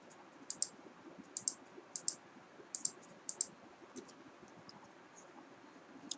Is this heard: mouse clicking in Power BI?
yes